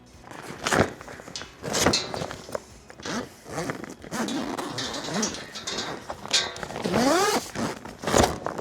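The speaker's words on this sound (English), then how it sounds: "we'll unzip this outer bag, and we'll expose the tent" The zippered outer bag of a Jumping Jack 6x8 trailer tent being opened, a series of close zipper runs and fabric rustles in uneven bursts with pauses between them, no talking.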